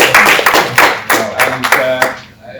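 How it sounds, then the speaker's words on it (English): An audience at a high-level conference event applauds for a birthday with a brief round of clapping, individual hand claps clearly distinct in a quick, slightly uneven rhythm that tapers off within a few seconds. "Round of applause"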